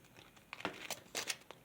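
Soft paper crinkling and creasing in a few quick bursts as a paper pistol is folded, close and quiet, with no talking.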